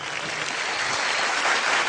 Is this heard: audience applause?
yes